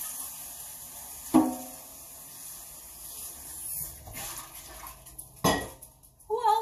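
Dishes being washed by hand in a kitchen sink, with running water hissing steadily underneath and a few sharp clinks of plates and cutlery at intervals, close by and moderately loud.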